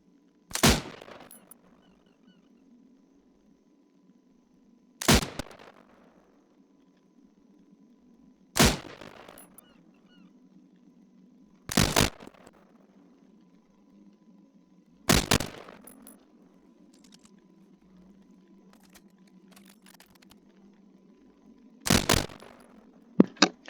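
AWM sniper rifle from a British Army weapons mod in Arma 3, firing 8.6mm rounds as six sharp, loud single shots spaced a few seconds apart, each followed by a short decaying echo and faint bolt-cycling clicks.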